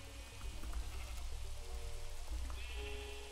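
Sheep bleating in a block-building survival video game, a few wavering bleats over steady game ambience and a low background tone, moderately loud with no talk.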